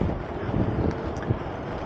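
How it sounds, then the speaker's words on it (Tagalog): Strong wind blowing on a mountain trail during a downhill ride, a loud continuous rumbling buffet across the microphone with gusty swells, no talk. "Lakas ang hangin."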